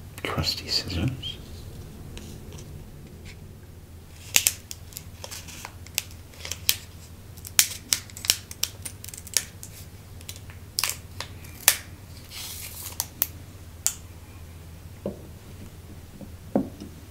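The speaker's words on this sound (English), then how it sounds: "Got my trusty scissors." Scissors cut into Japanese snack packaging, sharp crisp snips and crinkles of plastic wrapper scattered irregularly over soft, close whispered talk in a quiet room.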